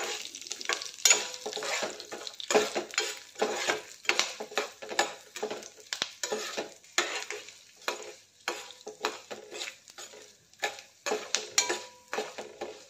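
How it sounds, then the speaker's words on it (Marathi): Upma ingredients in oil and ghee sauté in a pan until reddish, giving a steady, close sizzle broken by repeated scraping and stirring strokes of a spoon against the pan, with no voices. "लालसर होईपर्यंत परतून घेऊया।"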